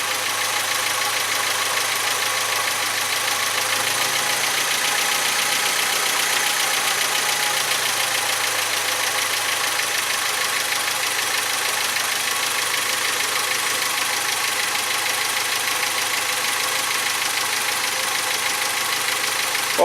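A Geo Tracker engine fitted with a second alternator idles steadily and continuously at close range, a constant mechanical hum with faint knocking and a broad hiss over it, with no one talking.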